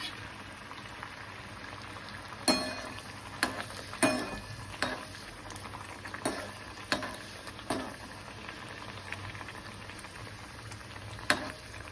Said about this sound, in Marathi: आता बघा हे कढईमध्ये टाकायचं आणि छान तळून घ्यायचं